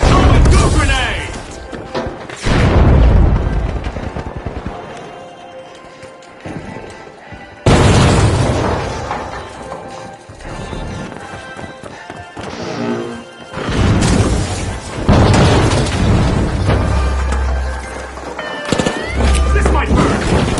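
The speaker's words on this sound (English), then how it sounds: "Throw a goo grenade!" Goo grenades are thrown and burst during a match in the video game The Finals. Several heavy booming crashes and thuds hit in separate bursts, with quieter gaps between them and game voices and effects in between.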